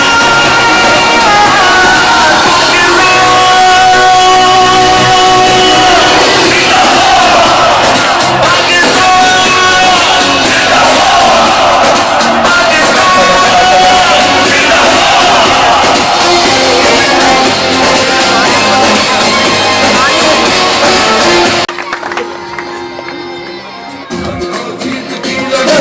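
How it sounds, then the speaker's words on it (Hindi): A loud crowd cheers and applauds at an outdoor Independence Day celebration in Pakistan, a dense continuous roar with music and shouting that cuts off abruptly near the end, leaving quieter murmuring. "आप सबकी तरफ तालियां होनी चाहिए।"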